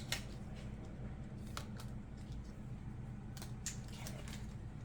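A deck of oracle cards being shuffled by hand, soft papery riffles and flicks in short bursts, faint and close with no talking.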